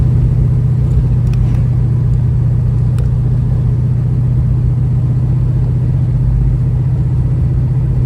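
A 1971 Oldsmobile Cutlass with a 482 Olds engine runs rough on the road, a loud, steady low rumble with an uneven idle pulse continuing without a break and no voices.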